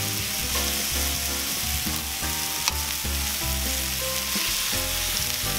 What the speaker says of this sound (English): of that sizzle